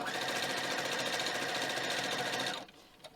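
Sewing machine stitching fabric backed with fusible interfacing, a fast steady close mechanical whirr running evenly before stopping abruptly near the end, followed by quiet room tone.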